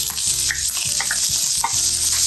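Mushroom pieces sautéing in a pan for sesame tofu, a loud constant sizzle with quick clattering spatula scrapes now and then, close up.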